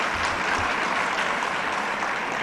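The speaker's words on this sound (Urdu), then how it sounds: "تالی آپ بھی بجائیے نا، آپ کو کیا پریشانی." An audience at a press conference applauds in a dense, steady wash of clapping that holds at an even, fairly loud level throughout.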